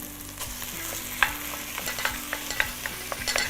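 Minced meat for patates oturtma sizzling in a pan, a steady close frying hiss broken by scattered pops and stirring scrapes.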